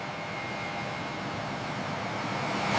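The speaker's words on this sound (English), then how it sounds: "the aircraft began taxiing toward the runway" Jet airliner taxiing toward the runway, a steady broadband engine roar with a faint whine, constant and fairly loud throughout with no voices.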